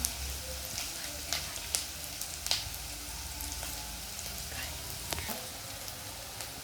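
Steady sizzling of onions frying in a pan, a dense crackling hiss with occasional sharper pops, close and continuous.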